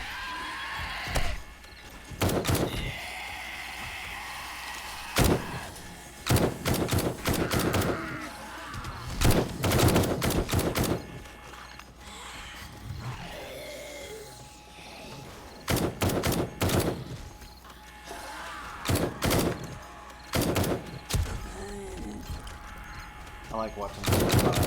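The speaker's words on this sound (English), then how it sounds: "I'm shooting their legs out from underneath them" Gunfire shooting zombies in 7 Days to Die: loud, close bursts of shots and rapid volleys, some near-continuous, spread across the clip between pauses, with someone talking in between.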